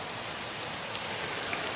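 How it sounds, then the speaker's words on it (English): Steady rain falls outdoors on a cold day mixed with snow, a dense, even hiss of drops, close and continuous with no voices. "We have rain."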